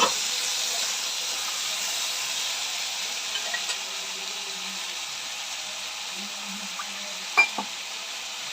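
Vegetables, with beans and potatoes, are sautéed in a pan with fish and give a steady, moderate frying hiss throughout. A couple of faint clinks and one sharper utensil tap come near the end, and there is no talking.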